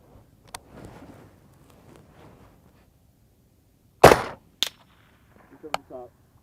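Rifle gunfire from XM193 and M855 rounds fired at body armor, a few sharp loud shots spaced seconds apart with faint echoes, preceded by quiet distant murmuring.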